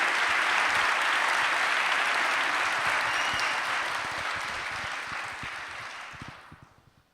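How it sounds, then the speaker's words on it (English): Sustained audience applause for a governor at a synagogue event in Washington DC, loud and steady for several seconds, then thinning out and fading toward the end. "Give him a great big round of applause."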